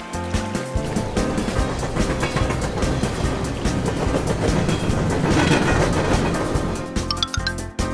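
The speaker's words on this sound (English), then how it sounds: "Train." A loud, steady rumble of a passing train with rattling, clattering wheels and metallic clinks near the end.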